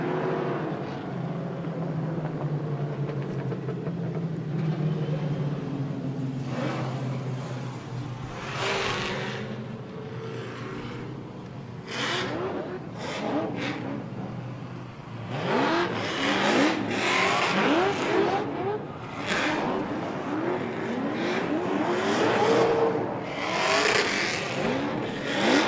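Drift cars at LS Fest West, including a Kumho Tire 370Z, roar with engines revving hard and tires squealing through long slides, sweeping near and away again and again.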